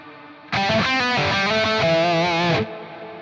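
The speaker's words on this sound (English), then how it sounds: "Pretty long reverb." Electric guitar played through a Blackstar St. James amp plugin with long reverb, a short run of loud, ringing notes and chords lasting about two seconds, then cutting off abruptly.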